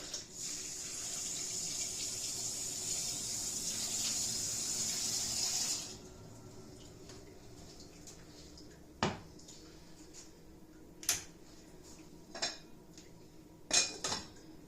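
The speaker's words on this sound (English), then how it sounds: "I'm going to add some hot water, get these going so that they're boiling away" Hot water pours steadily into a pot of potatoes for shepherd's pie, a hissing rush that stops after several seconds, followed by scattered clinks of pots and utensils in a quiet kitchen.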